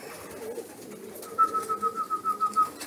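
Racing pigeons arrive at a home loft, with soft cooing and wing flutters close by, then a steady beeping pulse of about nine tones from the loft's arrival timing system registering a bird.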